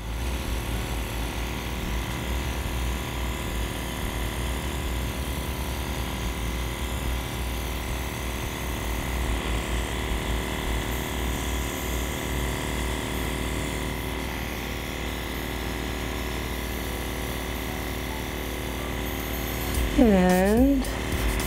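A steady, continuous airy hiss of a Dinair airbrush spraying makeup runs throughout at an even level, with a brief higher whine near the end.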